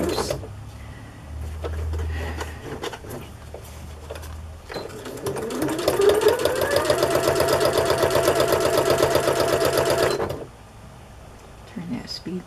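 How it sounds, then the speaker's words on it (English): A sewing machine stitches a book page onto silver cardstock, a steady rapid mechanical whir running for about five seconds and then stopping, preceded by quiet handling noises and a low voice. "So I'll just start right here and sew the book page to the silver cardstock."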